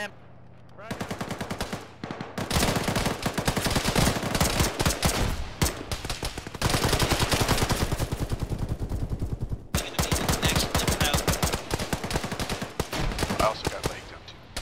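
Heavy automatic gunfire from an ARMA military shooter, fired in long rapid bursts with short pauses between them. The shots are loud and close, and continue almost nonstop.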